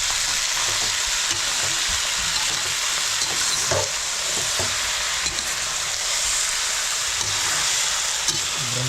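Fish fries in a pan with a steady, dense sizzle while being stirred, producing occasional scraping and clinking accents over the continuous crackle.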